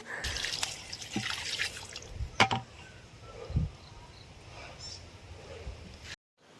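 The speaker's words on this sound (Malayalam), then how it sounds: "പുറത്തിറങ്ങി ചെടിയൊക്കെ ഒന്ന് നനച്ചു കൊടുക്കുകയാണ്" Water trickles and splashes irregularly outdoors as garden plants are watered, with scattered drips and a few louder spatters, fairly faint overall.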